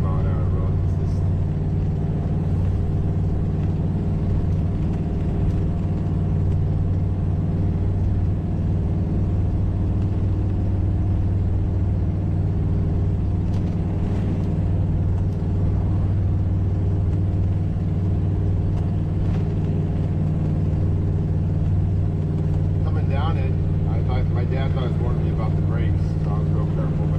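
A 34-foot RV engine climbs a steep hill in second gear at about 25 mph, a steady loud low drone and rumble that continues throughout while a person talks over it.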